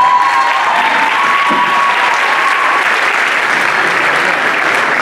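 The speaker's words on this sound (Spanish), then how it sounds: "Un fuerte aplauso también para otro gran bailarín, Juan Ignacio Bagnardi, por favor, un fuerte aplauso." Audience at a choreographed dance show applauding dancers, sustained dense clapping at steady volume throughout, with a faint tone beneath it early on.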